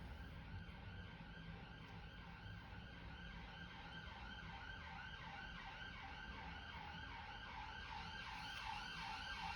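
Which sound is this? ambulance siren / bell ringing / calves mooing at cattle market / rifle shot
ambulance siren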